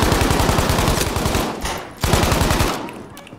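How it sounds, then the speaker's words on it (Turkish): Rapid automatic gunfire in the Battlefield V video game, two loud close bursts of fast rhythmic shots, the second after a brief pause, fading into a short tail. "Şuraya mermi atayım."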